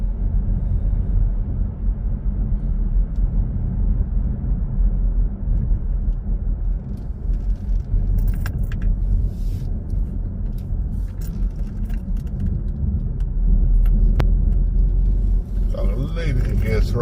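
A car engine pulling in third gear on a road as it builds speed, a steady low rumble with a voice talking over it for most of the stretch.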